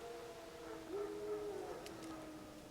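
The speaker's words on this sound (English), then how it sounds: "No. Wild dogs. Yes. More dangerous than wolves." A faint, distant howl from wild dogs rises briefly over quiet outdoor ambience in the video game The Witcher 3, a single drawn-out wavering call lasting under a second.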